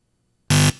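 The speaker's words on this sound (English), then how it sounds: "that buzzer means the end to the joust." A quiz show buzzer sounds once at the close of a round in a high school academic quiz match, a loud, flat electronic tone lasting about a quarter second after near silence.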